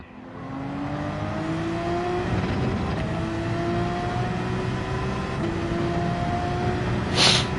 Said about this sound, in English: that GTR completely murdered me. And just went on his way.